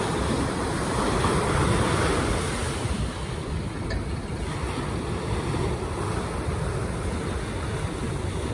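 Big ocean surf breaks and rolls continuously near a beach where a monohull boat operates, a loud broad roar with buffeting wind noise and no voices.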